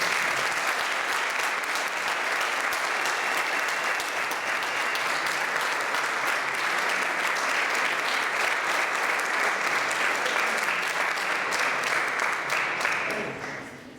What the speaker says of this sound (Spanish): Yo quiero despedirlos con un fuerte aplauso.